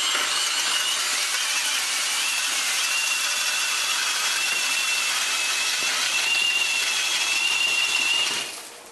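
An ice auger driven by an electric drill bores through ice, a steady high-pitched whirring grind with a faint whine running unbroken for about eight seconds before quickly winding down.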